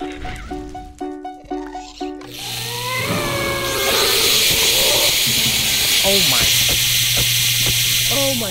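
The Ur-ghast boss from the Twilight Forest mod for Minecraft, played in the All The Mods 8 pack, gives a few short tonal chimes and then bursts into a loud, sustained hissing screech with wailing cries layered over it.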